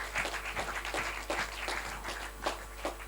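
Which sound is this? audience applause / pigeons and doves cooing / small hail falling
audience applause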